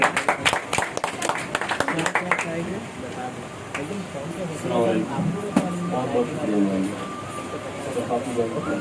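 At a poetry recital, audience applause welcomes a poet in a brief burst of scattered, close claps that fades after a couple of seconds, giving way to someone speaking.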